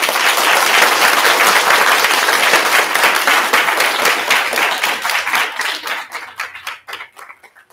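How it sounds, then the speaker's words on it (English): Applause from an audience at a D.A.R.E. graduation ceremony in Pontiac, a dense crowd clapping loudly and steadily before thinning into scattered individual claps that fade out near the end. "everyone a round of applause again"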